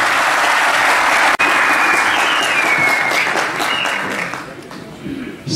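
A crowd at a Yeniden Refah Partisi campaign event in Hendek applauds steadily as mayoral candidate Menderes Ayvaz is invited to the podium. The dense clapping holds strong and even, then slowly thins toward the end.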